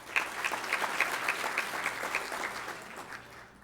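Warm applause from a banquet audience for award recipients at a legacy dinner, many hands clapping together in a full, even patter that gradually thins and fades out near the end.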